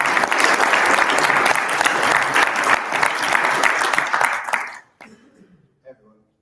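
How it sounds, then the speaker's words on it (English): An audience applauds a new speaker at a business talk, a loud sustained round of clapping that fades out abruptly near the end, leaving brief faint sounds. "Big round of applause for the new speaker."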